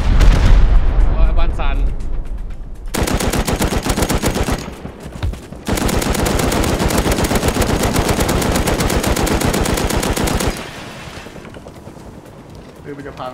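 Heavy automatic gunfire rattles in dense, sustained bursts during a raid on a house in the video game Rust, with short pauses between volleys and voices talking over it.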